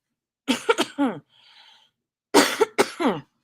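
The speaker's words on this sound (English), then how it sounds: "I got a cough." A person coughs in two clusters of harsh, throaty bursts close to the mic, separated by a short quiet pause with faint rustling.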